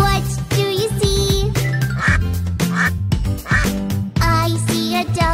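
A voice imitates a duck with quick, repeated quacks over a bright children's nursery-rhyme tune with chiming music, loud and close.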